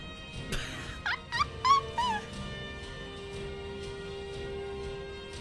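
A dog in the video game Skyrim gives a few short whimpers and yelps in the first half, closely spaced, then quiet background ambience takes over with no talk.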